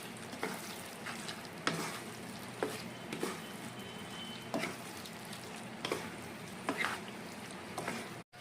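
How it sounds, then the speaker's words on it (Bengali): Garam masala is stirred into chicken frying for kala bhuna. Repeated scraping stir strokes come at a steady pace over a continuous soft sizzle, with no voices. "আমি এখন যে মশলাটা, গরম মশলাটা তৈরি করে রেখেছিলাম সেটা মাংসে দিয়ে দেবো। আর এখন এটা ভালো করে মিলিয়ে নেব।"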